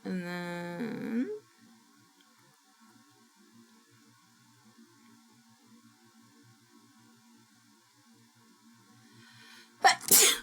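A single sharp sneeze bursts out near the end after a long stretch of near silence with faint electrical hum, preceded at the start by a brief tonal sound.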